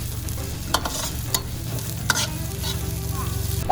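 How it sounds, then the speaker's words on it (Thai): Dried chillies and garlic stir-fried in a pan, a close, steady sizzle broken by sharp scrapes and clacks of the utensil every second or so, with no voices. "เริ่มจากผัดพริกแห้งกับกระเทียมให้หอมค่ะ"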